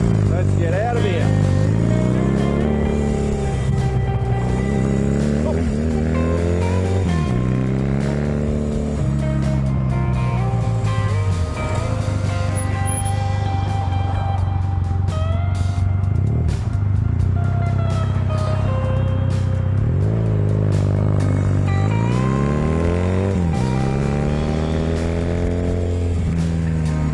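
A motorbike pulls away and rides off, engine revving up through repeated gear changes in rising and falling sweeps, loud and close over steady wind noise.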